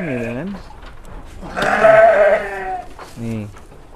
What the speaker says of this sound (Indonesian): Oh, ini domba-dombanya nih. Domba Garut.